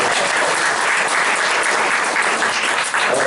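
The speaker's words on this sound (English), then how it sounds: "Give my grandson a round of applause." Sustained, dense audience applause for a grandson standing up at a museum talk, loud and even throughout with no break and no voices over it.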